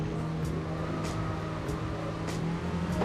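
Car engine accelerating in Gran Turismo 4, a steady, loud droning hum that holds at an even pitch throughout, with faint periodic ticks on top and no speech.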